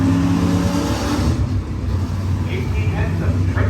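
Race cars roar around a racing track at night, a loud, continuous engine drone that swells and fades as a car heads into a turn with loose plastic hanging beneath it.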